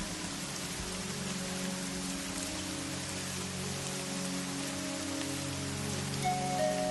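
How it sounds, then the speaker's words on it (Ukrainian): Steady rain patters and drips on surfaces in a calm, relaxing setting, a dense, even wash of droplets running without pause at moderate level, with a low continuous hum beneath. "слухати музику дощових крапель"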